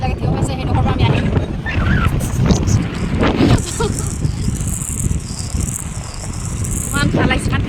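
Cold wind sweeps across the hills of Shillong, a steady broadband rush buffeting the microphone throughout, with a faint high insect-like whine above and occasional voices underneath.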